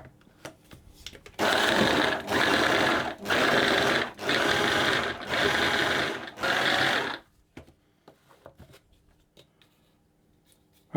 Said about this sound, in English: I'm going to process it again, pulsing it to start with, until the butter has broken down into the dry ingredients